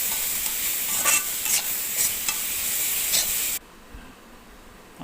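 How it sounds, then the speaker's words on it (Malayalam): Beetroot stir-fry with salt and turmeric is stirred in a hot pan, giving a steady loud sizzle with periodic scraping strokes, then the sizzle abruptly drops to a faint hiss; no talking. "അങ്ങനെ എല്ലാം കൂടെ മിക്സ് ചെയ്യുക."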